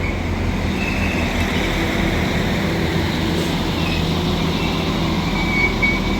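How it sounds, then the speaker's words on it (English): A Northern Class 195 passenger train rolls into Blackburn station with a loud, steady rumble and rail noise, the drone holding constant throughout with no voices. "this Northern Class 195 arrives into Blackburn now"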